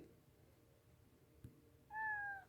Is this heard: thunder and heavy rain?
no